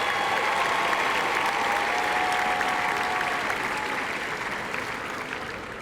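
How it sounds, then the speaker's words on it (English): Crowd applause welcoming newcomers at Stellenbosch University, a long sustained wash of clapping with a faint whistle partway through, easing slightly toward the end. "Let's give them a hand of applause."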